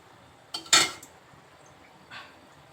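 A metal kadai, a wok-style pan, lands on a stovetop with two sharp clanks close together, followed a moment later by a fainter metallic knock in an otherwise quiet kitchen.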